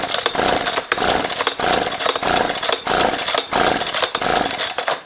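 A Husqvarna 125B leaf blower with a no-start fault, pulled repeatedly on full choke: loud, close, rhythmic rasping bursts of starter-cord pulls and engine turnover, about five cycles, with no voices.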